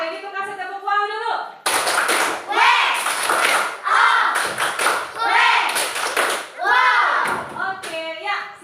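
A classroom of children performs the "tepuk wow" clapping routine, with bursts of rhythmic hand claps and chanted voices alternating in loud, close waves over about eight seconds.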